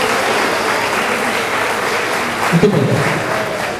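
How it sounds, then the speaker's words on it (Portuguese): Audience applause at a school sports and martial arts exhibition welcoming an artistic gymnastics performer, steady and dense throughout, with a brief spoken phrase near the end. "uma salva de palmas."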